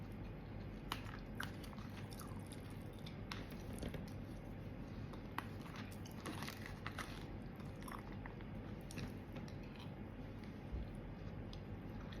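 Stir-fried shrimp with chili and salt being chewed up close, shells and tails and all, giving a steady run of soft crunches and wet squishing bites with no talking.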